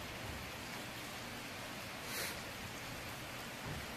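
Rain falls steadily at night during a motorcycle trip, a faint, even hiss of downpour with a slightly stronger swell partway through and no voices.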